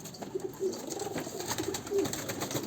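Pigeons or doves kept in a backyard coop give soft, repeated cooing calls, fairly close and steady over a quiet outdoor background.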